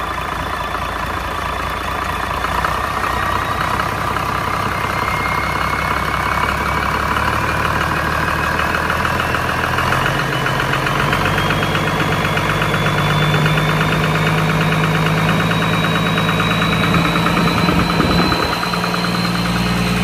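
A Cummins L375 diesel engine runs smoothly at a steady idle, loud and close. Its even rumble and knocking pulse carries on for the whole stretch, with a faint rising whine and no voices.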